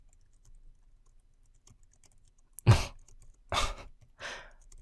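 Typing on a computer keyboard comes in three short, close bursts of clattering keystrokes separated by quiet gaps.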